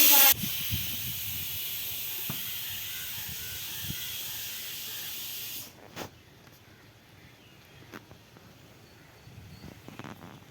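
A pressure cooker cooking rice on the stove lets out a loud, steady hissing whistle of escaping steam for about five seconds, then cuts off abruptly, leaving a quiet room with a few faint clinks.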